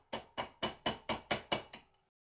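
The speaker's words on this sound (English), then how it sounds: "This pin was quite tight in the hole, so I used an Allen key to tap it out" Seven sharp metallic taps of an Allen key driving a tight pin out of a wheel ring on the axle of an Allchin Royal Chester traction engine, evenly paced and close, ending abruptly with a faint last tick.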